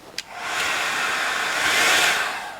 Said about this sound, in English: I put on the hairdryer beside the paper